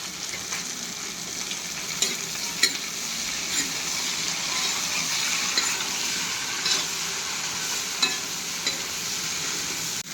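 Beans and potatoes fry and get stirred in an oiled wok, giving a continuous close sizzle broken by occasional scraping clinks of the spatula against the metal pan.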